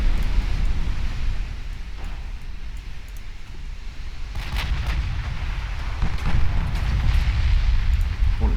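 In the naval warfare game Ultimate Admiral Dreadnoughts, torpedoes strike a warship: a rolling series of deep booms and explosive impacts over continuous low battle rumble, with heavier blasts bunching toward the end.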